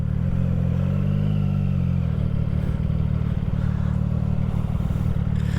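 A CF Moto 675SS sport motorcycle rides along with its engine holding a steady drone. Wind rush and road clatter sit close and loud over the engine, with no talk.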